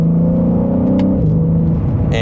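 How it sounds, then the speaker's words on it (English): A 2026 BMW M3 Competition xDrive in Sport Plus mode accelerates in second gear, its engine note rising steadily then dropping briefly as it shifts, loud and continuous inside the cabin with a voice speaking over it. "And just a minor acceleration, this is a very, very performance-oriented vehicle"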